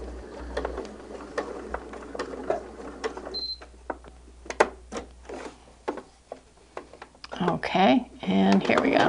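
A sewing machine chain stitching fabric for a barn star sampler block, giving a run of quick, light mechanical ticks and rattling bursts. Talk comes between the bursts, and the stitching gets louder near the end.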